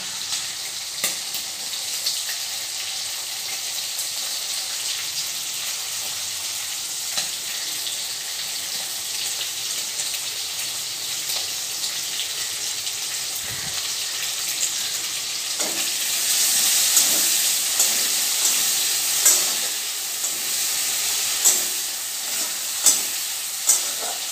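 Onions go into a hot pan with large prawns and sizzle steadily; the frying grows louder partway through, and quick scraping stir strokes punctuate the continuous hiss near the end.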